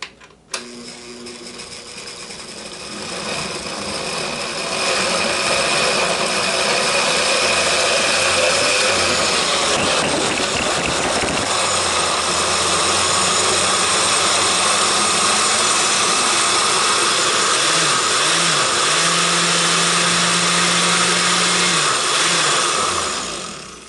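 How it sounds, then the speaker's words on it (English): A blender whirs steadily through an avocado shake with milk, a loud, sustained motor drone whose pitch wavers and dips as the thick mixture churns, with brief speech near the start. "Now, blend it."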